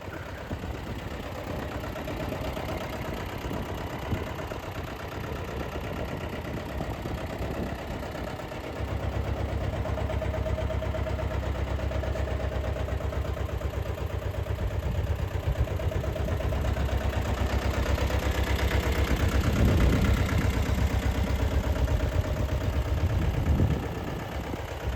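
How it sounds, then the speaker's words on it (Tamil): A 2022 Solis 4515 tractor engine idling, a steady low diesel rumble heard up close that grows fuller and louder after a few seconds and then holds constant. "இந்த டிராக்டர் சோலிஸில் 4515ங்க, 2022 மாடல்."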